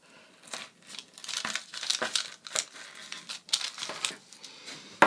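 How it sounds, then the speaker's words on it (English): Scissors cutting across beaded lace, giving close, faint, irregular snipping and crinkling with rustling of the fabric and beads, no speech. "Then I'm going to cut across the top."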